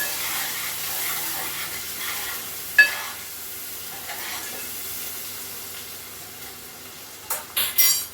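Curry leaves, turmeric and ginger-garlic paste frying in oil, a soft steady hiss with a few sharp spatters and brief clatters toward the end, fairly quiet and with no talking.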